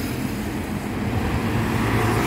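Busy street traffic on Jalan Pemuda Rawamangun in Jakarta, where Transjakarta buses run in a separate lane, forms a steady low rumble of passing vehicles with no clear individual events.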